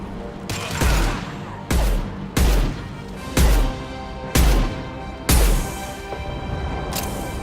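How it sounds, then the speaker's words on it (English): Impact shots fired in the sci-fi shooter game Mass Effect 2: five loud, sharp blasts spaced about every second, each with a heavy low thump and a trailing rumble over continuous background battle noise. "Firing an impact shot."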